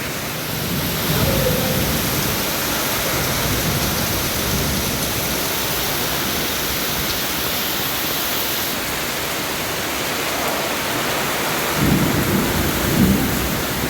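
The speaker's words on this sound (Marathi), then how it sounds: "आणि अशा जोरदार पावसाने ब्लॉगला सुरुवात झालेली आहे." Heavy rain pours steadily with rumbling thunder building in the low end, loudest near the start and again toward the close.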